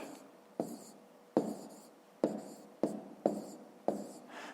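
A pen writes numbers by hand on paper during a fifth-grade subtraction exercise, with six or seven short scratching strokes in an even rhythm, each starting sharply and trailing off, close and quiet.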